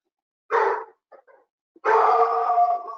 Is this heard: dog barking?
yes